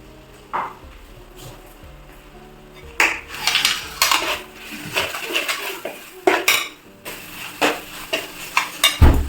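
Metal spoon clatters and scrapes against a pot while chicken is stirred with pepper and crushed green chilies, in irregular clinks and knocks that start faint, grow denser and louder after a few seconds, and carry no speech.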